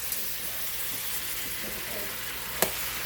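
Sliced squash and onions fry in very hot oil, giving a steady, close, even sizzle with a faint crackle and one sharp pop near the end.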